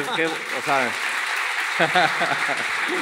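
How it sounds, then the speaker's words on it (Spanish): Steady applause from an audience at a Christian conference fills the space, with a voice speaking over the clapping at the start and again near the end. "denle un aplauso por favor"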